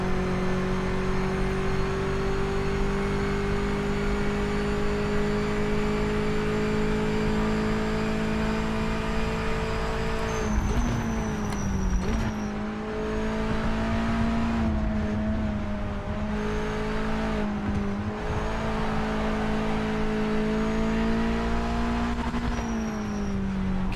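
A GT race car in the Project Motor Racing GT Icons pack holds a high, steady engine whine against the rev limiter, with brief dips and stutters at shifts, loud and close throughout.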